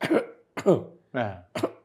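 Four short, sharp coughs in quick succession, close and fairly loud, with brief pauses between them.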